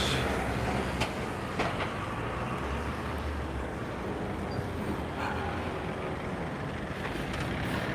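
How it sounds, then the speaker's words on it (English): A vehicle passing on a road near a beach: a steady low rumble and broadband wash that holds for several seconds with a few faint knocks, heard outdoors with no talk. "So we'll just wait for this car to go past."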